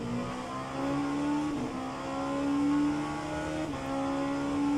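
A sports race car idles in rFactor 2 at Le Mans, its engine a steady droning hum with slight pitch wavers, held continuously at moderate level.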